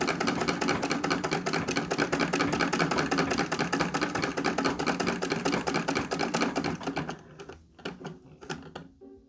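A sewing machine stitches fabric for a homemade rice bag, a rapid even mechanical chatter running steadily for several seconds before slowing into a few separate clicks and stopping.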